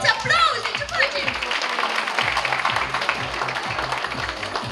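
An audience applauds at a high school ball themed around movie stars at Spiru Haret Theoretical High School in Moinești, with a steady wash of clapping over a thumping music beat.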